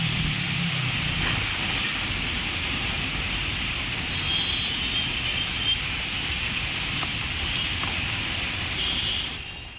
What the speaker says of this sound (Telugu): హైదరాబాద్లో కురుస్తున్న భారీ వర్షానికి సంబంధించిన మరింత సమాచారాన్ని